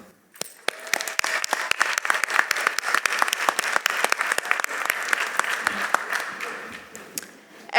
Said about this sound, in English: The class of 2023 applauds all of you.